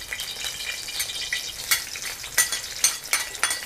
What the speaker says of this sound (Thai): ผัดเครื่องให้หอมฉุยเลยจ้า